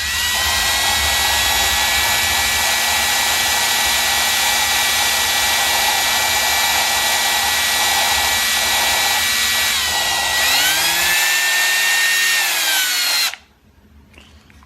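A power drill lapping a Toyota 2JZ engine valve with cutting compound whines steadily and loudly, with grinding underneath, then its pitch sags before it cuts off abruptly near the end, leaving quiet.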